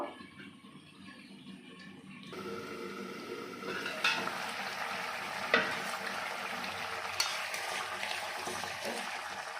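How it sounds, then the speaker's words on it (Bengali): Fried tilapia pieces go into a Bengali curry in a pan, bringing a steady frying sizzle that swells after a couple of seconds, with a few sharp clinks of utensil against the pan and no speech. "এবার দিয়ে দেবো ভেজে রাখা মাছগুলো"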